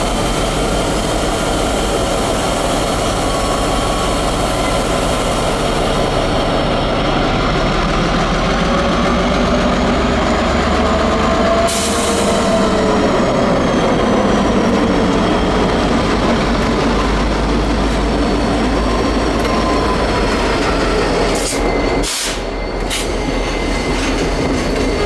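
A CSX MP-15DC diesel switcher locomotive, built 1978, leads a local freight train, its engine a loud, steady drone close by for the whole stretch, with wheel and rail noise and a brief squeal near the end.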